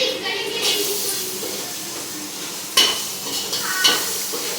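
Puffed rice mixture for borugula uggani being stirred in a pan, a steady scraping and rustling with a few sharper clinks of the spoon against the pan, close and moderately loud.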